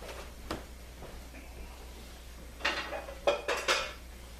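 Wu-mu noodles with pork and vegetables are tipped from a colander into a large bowl, giving a few faint scrapes early on, then a cluster of louder metallic clanks and a slithering rustle near the end.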